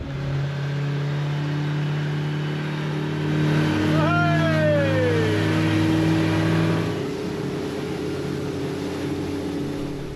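A boat motor heard off a remote Australian island coast, running steadily with a rising whine as it revs up around the middle, then settling back to an even drone.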